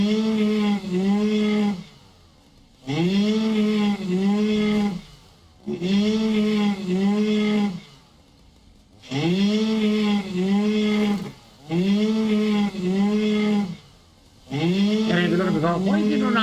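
A chainsaw in a video game, revving in long repeated bursts with brief pauses between, loud and close, its buzzing engine rising and settling in each cut, with the last burst turning rougher.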